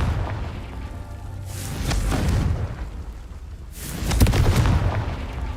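Two booming fire-spell explosions from the Confringo charm in the Hogwarts Legacy video game, each a heavy rumbling blast with crackling decay, loud and close, with no talk over them.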